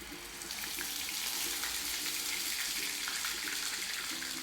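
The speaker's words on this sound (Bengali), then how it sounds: "পেঁয়াজ যতক্ষণ না ভালো করে ভাজা হচ্ছে ততক্ষণ হালকা আঁচে ভেজে যাব।" Onion paste fries in fish-frying oil with whole cardamom, cloves and cinnamon over low heat, giving a steady, close sizzling hiss with faint repeated clinks of a utensil against the pan.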